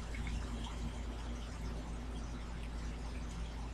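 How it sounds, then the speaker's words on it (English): Pineapple juice is poured into a shot glass to top off a Bacon Cheeseburger Shot. The trickle is faint and steady, running unbroken and close by. "top off a little bit with pineapple juice"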